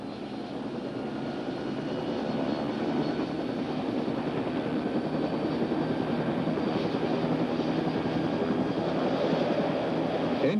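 A Bell OH-58 helicopter turbine engine spools up as the throttle is slowly opened to full, a steady loud broadband roar with a low rumble that holds constant and builds slightly, with no talk over it.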